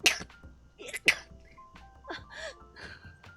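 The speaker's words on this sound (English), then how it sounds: "It looks like I sneezed on you." A person sneezes sharply near the start, followed by a second burst about a second later, then mixed vocal sounds and brief talk.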